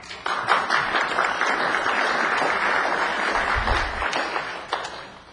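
An audience at a city council meeting breaks into applause after a public speaker, a steady wash of clapping of moderate loudness lasting several seconds.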